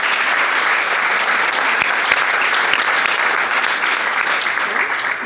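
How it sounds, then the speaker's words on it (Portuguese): Congregation clapping steadily in a church, a dense, continuous wash of applause lasting several seconds with no break. "Aplauda o Senhor."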